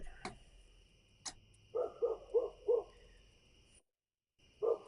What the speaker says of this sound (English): I think there's an owl hooting back there.